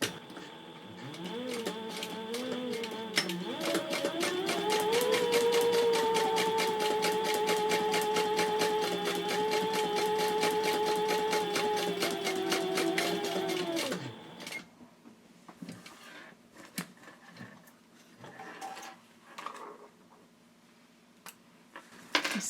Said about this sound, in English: Now I'll do some top stitching with the narrow foot there, and I am going to use the very edge of the foot as my guide